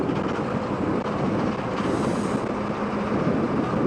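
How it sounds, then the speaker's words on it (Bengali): A train rolling past alongside a road near the Jalangi River, heard from a moving 125cc motorbike, a loud steady rumble with wind roar that keeps going throughout, no talk. "ওই দেখো পাশ দিয়ে ট্রেন যাচ্ছে"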